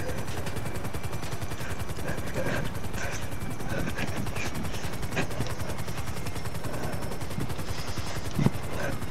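Gunfire aimed at the player in a video game, rapid bursts of shots under a constant droning helicopter-like engine roar, dense and loud throughout.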